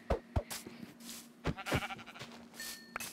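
Blocky sheep in the game Minecraft bleat in several short, close calls spread across a few seconds, mixed with small game sound effects and no talking.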